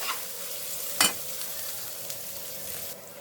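Urad dal with tamarind, curry leaves and coconut sizzles steadily in a pan, a soft continuous fry with one sharp clatter of a spoon against the pan early on.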